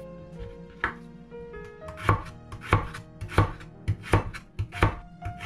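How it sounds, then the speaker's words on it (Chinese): A knife chops scallion and carrot slices on a cutting board in a home kitchen, landing in a run of sharp, close, fairly regular strikes that speed up partway through, with no talking. "大葱和少许胡萝卜都切成片，放盘里备用"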